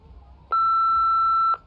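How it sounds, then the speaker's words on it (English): A single clean electronic voicemail beep from the Nancy Drew game Midnight in Salem holds for about one second at a steady pitch, loud and alone over faint background. "Please drop me a line after the beep."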